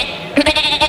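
A person imitates a goat's bleat, a short loud wavering cry right up close, lasting under a second.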